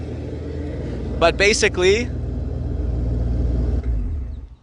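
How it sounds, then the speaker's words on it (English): Simulated engine rumble played through JL Audio subwoofers mounted under a Tesla styled as a Back to the Future time machine, a steady low drone continuing beneath and after a brief bit of speech. "It sounds like an engine."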